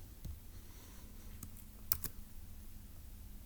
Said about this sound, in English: let's type that up in our notes in section D